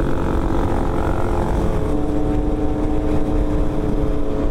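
A Kawasaki Z900 motorcycle fitted with a quick shifter, riding with a loud, steady engine drone and heavy wind rumble throughout, close and without speech.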